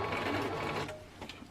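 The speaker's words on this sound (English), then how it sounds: "So I just did a quick straight stitch" A sewing machine running a quick straight stitch, a steady close mechanical whir that eases off near the end, with no talking.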